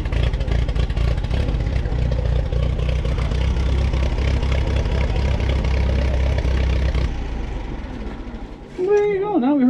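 Loud, steady tractor engine chugging throughout, a rough rhythmic idle that drops off near the end, followed by a brief voice, at an auction.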